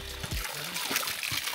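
Water is poured into a container, with short splashes and trickling bursts close by, while a voice speaks briefly in the background.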